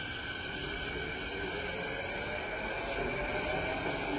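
A steady, droning bus engine hum with a broad hiss, holding constant without pauses or voices.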